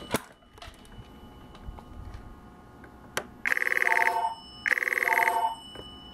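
A Rauland Borg TC4333 staff phone rings in two bursts of electronic ringing, each about a second long with a warbling trill, after a quiet stretch with a few clicks. Moderately loud and close.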